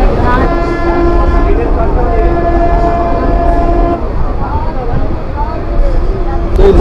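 A local passenger train on the Kolkata–Digha route runs toward the station, its loud steady rumble and rattle continuing throughout with sustained horn-like tones, while people talk nearby over the noise.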